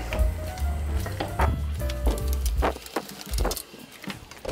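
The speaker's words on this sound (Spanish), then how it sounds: "Friendo y comiendo de una vez." Plantain pizza dough sizzling as it fries in a pan, a steady crackle with a few brief louder pops and scraping touches, close by and with no talk.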